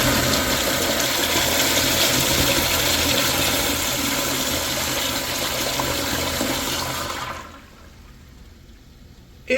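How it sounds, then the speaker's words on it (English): A Kohler Wellworth flushometer toilet flushes with a loud, forceful rushing roar for about seven seconds, then cuts off abruptly to near silence, followed by a brief click at the end. "Let's have a look at a flush."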